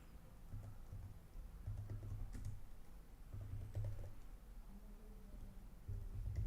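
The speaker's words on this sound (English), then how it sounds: "Sorry, I'm typing with one hand." Soft, close clicking of computer keyboard keys typed with one hand, coming in irregular bursts with short pauses and no talk.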